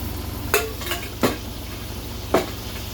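Meat frying in a buttered pan on high heat makes a steady, close sizzling hiss, broken by three or four utensil clinks against the pan, with no talk.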